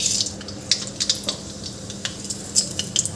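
Mustard seeds crackle in hot oil while tempering for a bhindi masala, giving scattered sharp pops and spits over a low sizzle, close by and with no talking.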